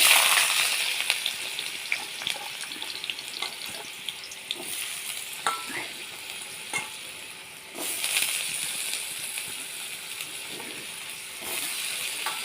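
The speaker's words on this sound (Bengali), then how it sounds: "তেলটা আমার গরম হয়ে গেছে, এবার আলুটা আমি দিয়ে দেব।" Diced potatoes fry in hot mustard oil in a wok, giving a loud, steady sizzle with occasional scraping stir strokes and a fresh surge of hissing partway through, with no talk.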